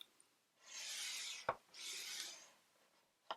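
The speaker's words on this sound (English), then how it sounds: "Actually, I'm just going to score 1 less than 3/4, so I'm going to score at 5/8." A scoring tool drawn across paper for a handmade mini album: two quiet, drawn-out rasping strokes close up, with a short sharp tap between them and another at the end.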